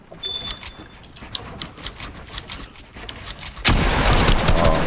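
Video game gunfire, rapid bursts of clicky mechanical shots and rattling, building into a loud sustained burst of fire at the end.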